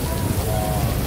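Heavy evening rain pours onto Causeway Bay Road in Hong Kong during a thunderstorm, a dense, steady broadband hiss of drops hitting the pavement, loud and continuous throughout.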